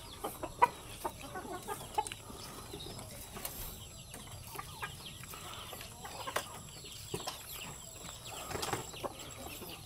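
Chickens cluck softly and intermittently amid faint outdoor ambience, with scattered short calls and occasional wing flutters, no one speaking.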